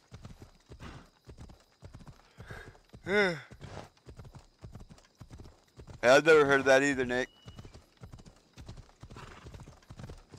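A horse's hooves clip-clop in a steady, even rhythm in a video game, punctuated by a couple of loud whinnies, while someone talks over the hoofbeats.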